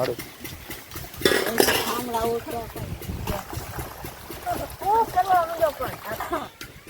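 Dishes and utensils clatter and clink while water splashes, with people talking over the washing.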